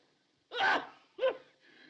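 Two quick sneezes close by, the first stronger, the second shorter, with near silence around them.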